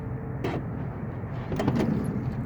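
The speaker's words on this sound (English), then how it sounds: "So you can do the power sliding door from the keyless entry." A Mercury Monterey minivan's power sliding door opens by keyless entry, giving a steady low motor hum with a faint clunk and a brief rattle as the door moves, close by and without talk.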